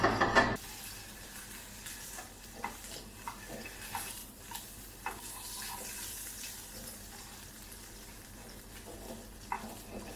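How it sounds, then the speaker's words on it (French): Salmon fillet searing in very hot oil in a restaurant kitchen, a soft sizzle with scattered clinks and light handling knocks after a sharp loud burst at the start, no talking. "Saisie aller-retour dans une huile très très chaude pour vraiment juste le marquer sur le contour"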